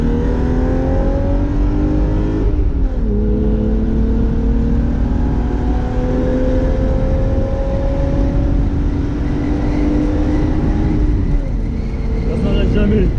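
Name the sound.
BMW E30 325i six-cylinder engine accelerating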